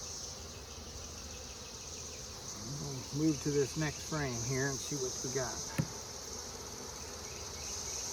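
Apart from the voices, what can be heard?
honeybees buzzing in a Layens hive during inspection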